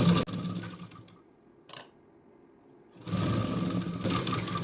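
A sewing machine stitches a petticoat in short bursts, a rapid mechanical whirr that stops, leaves a quiet gap with a brief clack, then starts again close and steady.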